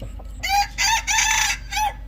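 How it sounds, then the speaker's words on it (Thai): A rooster of the Saiman fowl line from Phetchabun crows in several loud, close bursts, each long call rising and breaking into a ringing, harmonic cry, with a clucking note near the start. "นี่ตัวนี้ขันดีนะครับ"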